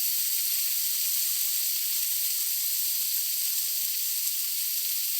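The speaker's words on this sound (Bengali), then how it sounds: "মোচাটা ভালো করে ভাজবো।" Banana flower frying in a pan with whole five-spice tempering, a little salt and ground cumin, giving off a steady, even sizzle and hiss that runs without a break and with no talking.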